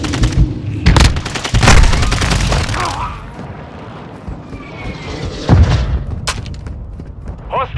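Gunfire and grenade blasts in the video game Call of Duty: Modern Warfare 2, with rapid bursts and booming explosions clustered early and a louder blast near the middle. Sharp pops and a short game voice line break through the steady battle din.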